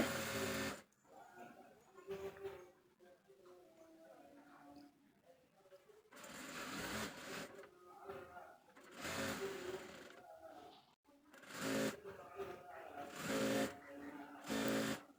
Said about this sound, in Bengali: এখন আমি আরেকটা সেলাই দিয়ে নিচ্ছি।